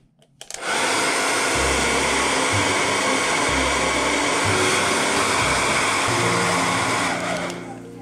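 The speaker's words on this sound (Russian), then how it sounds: "Берете фен, обыкновенный фен, и начинаете сушить." A household hair dryer blows steadily and loudly for several seconds, drying a wet relief painting, with a whooshing roar that starts abruptly and tails off at the end; no one speaks.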